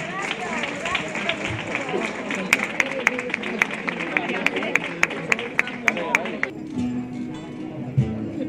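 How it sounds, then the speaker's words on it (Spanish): An audience at the Belén Viviente poster presentation in Arcos applauds the Calle de San Francisco choir, a dense burst of crowd clapping with sharp individual claps standing out, fading toward the end as murmuring voices take over. "Vamos a recibir con un fuerte aplauso"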